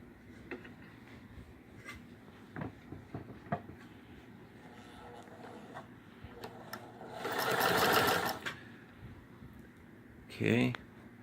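A Singer 128 sewing machine runs in a short burst of fast, whirring stitching, with a brief second run at the end, after scattered clicks and handling noises; fairly close and moderate in level.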